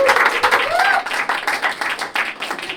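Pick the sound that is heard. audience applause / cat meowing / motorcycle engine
audience applause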